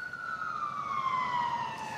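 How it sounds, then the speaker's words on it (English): An ambulance siren sounds in the distance, a single steady wailing tone that slowly falls in pitch over two seconds, faint under background noise. "I'm competing with the ambulance here"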